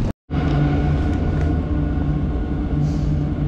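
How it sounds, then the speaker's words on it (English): A works train passes near Glengarnock train station, a steady loud rumbling roar that fills the whole few seconds without a break, with no voices. "That must be the train that's taking all the lines for the work that's going on."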